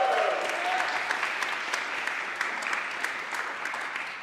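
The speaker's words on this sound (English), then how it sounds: "So one big round of applause again for Ilya." Steady audience applause at a concert rolls on evenly, a thick patter of many hands that slowly tapers off, with no voices over it.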